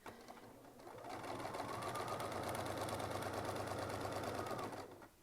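A sewing machine free-motion quilts a quilt sandwich, its motor starting up and running at a fast, steady, buzzing stitch rhythm close by for several seconds before winding down.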